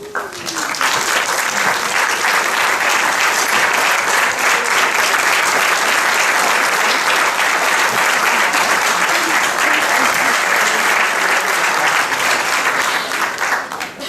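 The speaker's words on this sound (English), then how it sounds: "Can you please rise and let's give them a round of applause." Loud, sustained applause from a large crowd at a university mathematics graduation ceremony, dense clapping that fills the room for the full stretch and tapers slightly at the very end.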